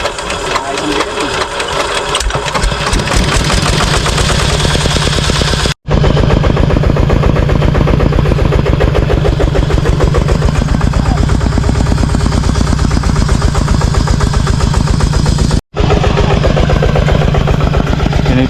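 A Yamaha RD120 two-stroke motorcycle engine runs loud and close with a rapid, rattling buzz that cuts out twice, briefly.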